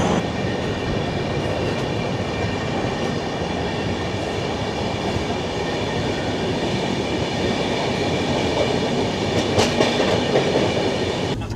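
An Indian passenger train running between Durgapur and Asansol Junction gives a constant, close rumble with rhythmic clickety-clack from the rails and light wheel squeal, steady throughout and with no speech.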